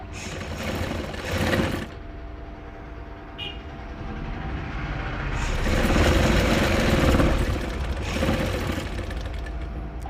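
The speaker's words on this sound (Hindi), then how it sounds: "तो अब यहाँ पे हम सिलाई लगाएंगे।" A sewing machine stitches a blouse, running in a loud rapid whirring burst, pausing for a few seconds, then running again steadily for longer.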